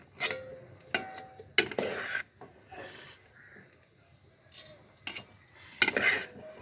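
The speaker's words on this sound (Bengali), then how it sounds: "আবার পরতে পরতে ভাত সাজিয়ে দেবো।" Cooked rice for chicken biryani being layered into a pot, with intermittent sharp clinks and scrapes of a metal spoon against the pot between soft rustling and quieter stretches, close and fairly faint.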